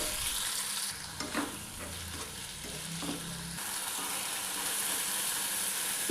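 Tomatoes frying with onions, garlic, pepper, cumin and curry leaves for a Tamil fish curry, a steady close sizzle with a few stirring scrapes in the middle, no talking.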